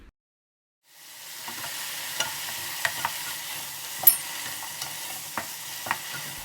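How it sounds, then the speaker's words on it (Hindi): Chicken pieces fry with ginger garlic paste in a pan for fried rice, a steady sizzle starting after a moment of silence, with frequent scraping clicks from stirring. "उसको भी अच्छे से फ्राई कर देंगे"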